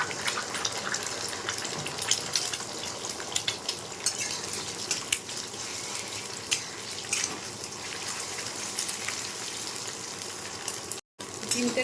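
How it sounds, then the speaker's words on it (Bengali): Eggs frying in refined oil in a wok, a steady crackling sizzle with scattered pops and spatters, close and continuous, with a brief dropout near the end. "এখানে আমি 3টে ডিম নিয়েছি, ডিমটা আগে ভেজে নেব।"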